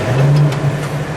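Loud, close idle of a 400-horsepower stroker V8 with aluminum heads in a chopped 1951 Mercury, a steady low rumble with a slight surge partway through.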